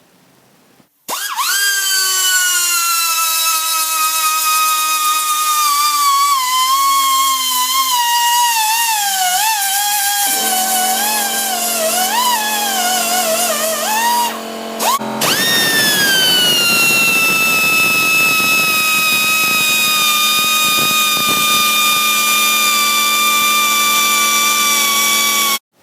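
A high-speed rotary power tool grinds the exhaust port of a Yamaha DT400D two-stroke barrel, a loud continuous whine that starts abruptly, shifts in pitch as it bites the metal, dips briefly midway, then stops.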